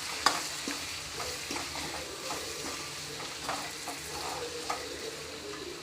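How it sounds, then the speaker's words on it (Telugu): Chicken curry being stirred in a sizzling pan, a soft frying hiss broken by irregular spoon scrapes and light clinks against the metal, close and moderately quiet, with no talking. "ఇది మొత్తం కలిపేసుకోవాలి."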